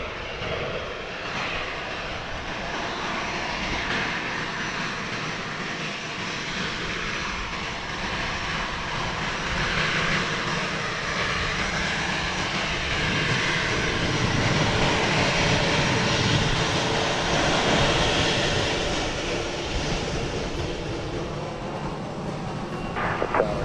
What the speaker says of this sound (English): Delta has been cleared for takeoff on its flight to John F. Kennedy International.